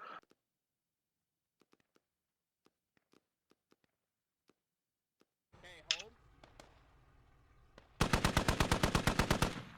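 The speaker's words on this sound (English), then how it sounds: "Those are some long shots they're taking at each other." Gunfire in the video game Squad: faint distant single shots tick at first, then nearer shots crack before a loud rapid burst of automatic fire closes it out.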